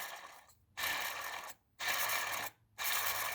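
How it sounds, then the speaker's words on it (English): On a BMW E46, the AC compressor's tensioner pulley with a worn-out bearing gives a faint, rough grinding whir in three short bursts, each cut off by a brief silence, heard up close. "the bearing is completely shot, so we're going to be replacing this pulley as well"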